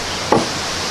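A single sharp, close thunk as an SZCO Rite Edge throwing knife, thrown with full spin from 13 feet, sticks into a wooden target outdoors, set against a steady background hiss.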